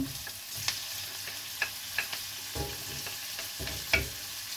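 Tomatoes, onion, chili and squash stirred and fried together in a pan, a continuous soft sizzle broken by sharp clicks and scrapes of the spoon, no talking.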